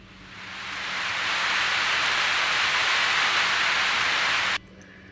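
Heavy monsoon rain pours down in New Delhi as a dense, steady roar that swells in over the first second, holds loud and continuous, then cuts off abruptly near the end.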